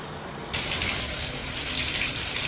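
Hot water from an Apus 14 kW electric tankless water heater gushes from a tap. It starts suddenly after a short quiet moment, then runs as a steady, even hiss. No voices.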